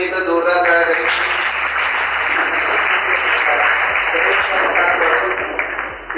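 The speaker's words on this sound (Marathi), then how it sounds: "गणेशसाठी एकदा जोरदार टाळ्या." An audience at a college budget talk breaks into loud, sustained applause for a student named Ganesh, dense clapping that holds steady for several seconds before tapering near the end.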